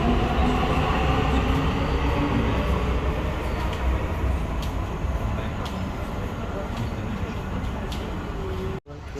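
A Dubai Metro train at Burj Khalifa station gives a loud, steady rumble and rolling roar from inside the carriage, with faint clicks, a voice underneath and a sudden brief dropout near the end.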